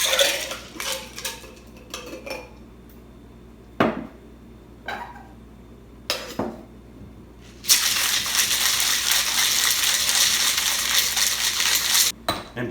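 Mint cocktail poured over ice into a mixer at a bar, with clinks of ice and glassware, scattered clatter, and then a loud sustained rattling shake of ice near the end, close and without talk.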